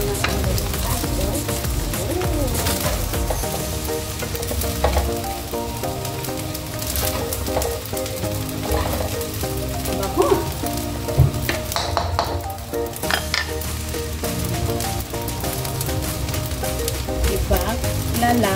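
Egg and shrimp frying in a pan for minced pork fried rice, with continuous loud close sizzling and a few stirring clatters throughout.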